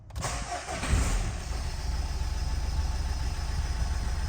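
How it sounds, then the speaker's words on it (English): A Nissan Qashqai with an odd fault and its bonnet open cranks briefly and fires up, then settles into a steady, close idle with no talk. "I'm going to start the engine now."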